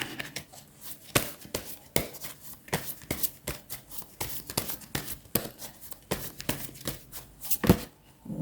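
Tarot cards are shuffled by hand for a three-card draw in a quick run of crisp riffling flicks and taps, close by and fairly quiet, with no speech.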